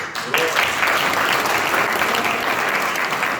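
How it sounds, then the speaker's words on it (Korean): Audience applause at a book concert in Ansan bursts in just after a short pause and holds steady and full for about three seconds. "박수 한번."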